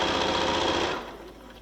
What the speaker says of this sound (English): you're going to sew the length of the row